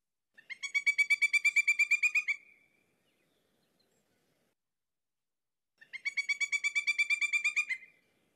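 A common southwest Ohio woodland bird sings two bright, rapid trilled phrases of about two seconds each, separated by several seconds of silence, clear and fairly close.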